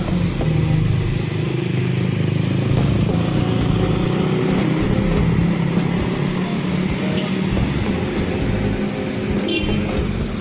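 Bus speeding along a road at night on an eastern route toward Medan in Aceh, Indonesia, with a steady, loud engine and road rumble that runs continuously throughout, interrupted by brief clicks, and nobody talking.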